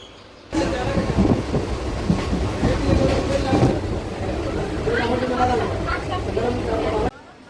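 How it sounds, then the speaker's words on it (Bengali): A train crosses a bridge over the Ganges near Hooghly Ghat, its steady rumbling rattle and wheel clatter loud and close, heard from inside the carriage with voices talking over it. "এখন ট্রেন যাচ্ছে গঙ্গার ওপর দিয়ে, হুগলিঘাট ঢুকছে ট্রেন এখন।"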